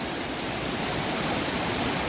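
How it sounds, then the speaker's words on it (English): Rapids on the Scantic River rush in a steady, broad roar of flowing water, continuous and even, heard from nearby on a riverside trail with no voices. "we've come down here to a better view of the rapids and a better view of the river"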